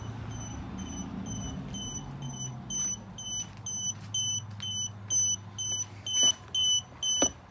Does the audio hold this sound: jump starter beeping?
yes